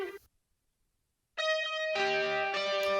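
Electric guitar in the intro of a rock track: a short clipped note, a second of silence, then sustained bright chords with rich harmonics entering and shifting, dry and choppy, with no voices.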